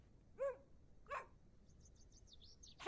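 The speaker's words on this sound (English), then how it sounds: "A doggy." A dog in the video game Excavation of Hobs Barrow gives two short barks a moment apart, moderately close, over quiet ambience with faint birdsong and a third bark at the end.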